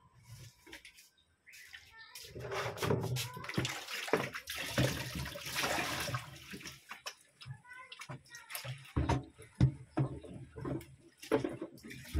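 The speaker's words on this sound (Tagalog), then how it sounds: "hinugasan ko lang tong langgana" Water runs and splashes as a basin is scrubbed and rinsed, with clattering knocks of the basin and a brief voice in the background.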